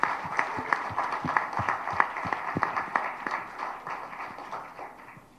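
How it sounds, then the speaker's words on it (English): Scattered applause from an audience at a live app launch event, with uneven individual claps rising and fading over several seconds, fairly close and moderately loud. "Let's give him a round of applause."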